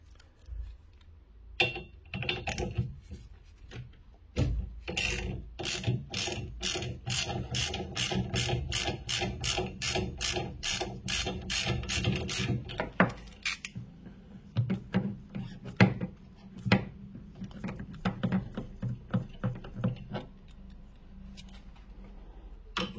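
Ratchet turning a 13 mm socket on a 2016 VW Sharan during a suspension retrofit, rapid clicking pawl strokes in bursts with a long fast run in the middle, close and fairly quiet, without speech.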